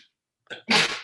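A single close, loud human sneeze with a short in-breath before a burst of air, in a quiet indoor room.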